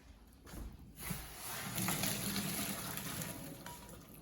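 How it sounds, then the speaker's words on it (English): Cicadas are lifted out of boiling water, giving a soft, steady watery gush and splashing with a faint hiss, heard close and fairly quiet. "Now take them out of the boiling water."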